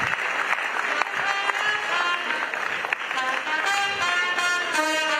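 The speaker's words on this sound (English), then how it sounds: "Please, a round of applause for him." Audience applause for a university Pro-Chancellor at an alumni gathering, continuous clapping under a sustained musical tone, with some crowd voices mixed in.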